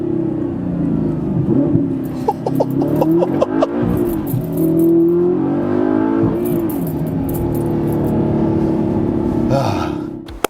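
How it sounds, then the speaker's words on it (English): An Audi R8 engine blips and revs loudly through a downshift, rising and falling close by over a constant rumble, with brief voices in the background. "I'll give you one more downshift before we go."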